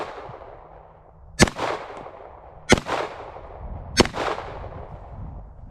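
A Canik Mete SFX pistol fires three sharp, loud gunshots outdoors, each about 1.3 seconds apart. Every crack rings out with a short echo, and nobody speaks.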